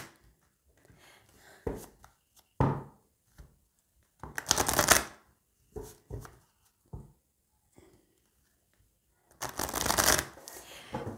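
Oracle cards are shuffled in several short riffling bursts separated by quiet gaps, close and crisp, with the longest flurries near the middle and the end.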